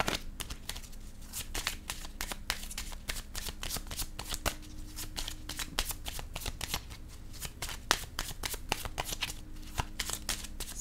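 Tarot-style cards are shuffled repeatedly for a reading, a long run of quick riffling snaps and papery flutters in irregular bursts, close and fairly quiet with no voice over it.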